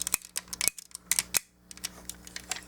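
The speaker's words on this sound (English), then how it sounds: "Very clickety joints." Joints of a Transformers Generation 1 Getaway toy being moved, giving a string of sharp, close clicks and ratcheting snaps in quick irregular bursts, with no speech.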